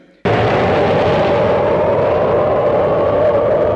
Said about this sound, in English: In the film, the bomb eventually drops.